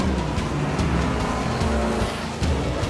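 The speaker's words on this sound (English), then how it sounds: "the car's locking up behind him" A race car locks its brakes and its tyres squeal loudly and close against a roaring engine, with the squeal rising and falling over a few seconds and no voices.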